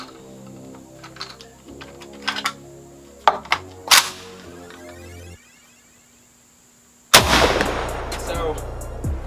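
A JTS AK12 shotgun fires a light load with a few sharp reports amid clicking and handling noises, then a quieter lull before a loud metallic clatter and rattle as it malfunctions.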